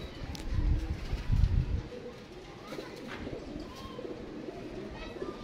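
Pigeons kept by a fancier in Faisalabad coo softly at close range in low, rolling calls, with faint background noise and occasional chirps.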